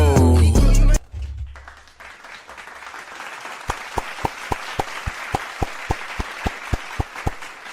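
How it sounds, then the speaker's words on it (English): Steady rhythmic clapping in unison from a small group keeps an even beat, following a brief burst of loud, noisy sound and a low murmur of background crowd noise. "Let's clap to that."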